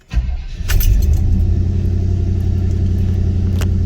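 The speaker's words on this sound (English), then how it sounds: "let's go ahead at the fuel pump prime and crank it up" A 1972 Monte Carlo engine cranks over after a brief starter whir and catches into a steady, loud, low idle rumble that holds close and even, with a light metallic jingle early on.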